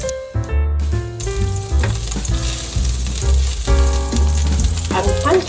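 Butter sizzles loudly and steadily in a hot pan over lower heat for sweet potato and oat pancakes, a close, continuous frying crackle with background music and no speech.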